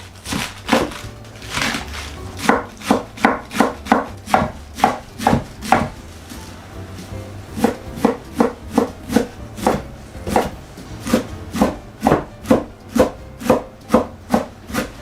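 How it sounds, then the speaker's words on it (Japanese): A knife finely chops cabbage on a cutting board in quick rhythmic bursts of sharp, close taps, with brief pauses between runs. "キャベツはみじん切りにしていきます。"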